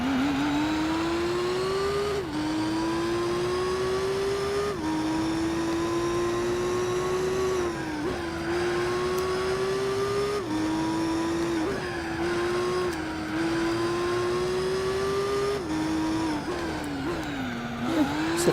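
Nissan 350Z Concept racing around a track in Gran Turismo 4's All Japan GT Championship, its engine whining loud and close, climbing through gears with regular shift dips and brief lifts for corners.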